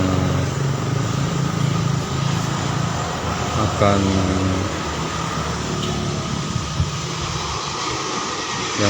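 A large aircraft roars steadily nearby as it lands on a runway, a broad rumbling drone that holds throughout while a person talks over it.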